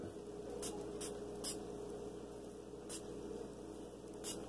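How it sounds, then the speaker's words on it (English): Five short hissing bursts of liquid sprayed onto skin at irregular intervals, close by, over a steady low background hum. "I spray it around where I'm gonna edge up."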